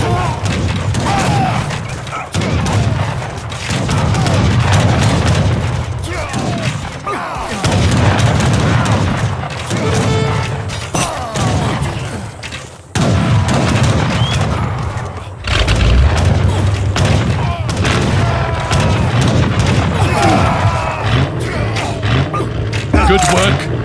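Bombard artillery booms in Age of Empires III: Definitive Edition, with heavy cannon blasts and rumbling battle noise filling a loud, dense mix under ongoing voices.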